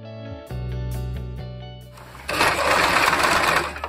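A sewing machine fitted with a pearl and sequin foot runs slowly at first in a steady mechanical hum, then speeds into a louder, denser whir for the last couple of seconds.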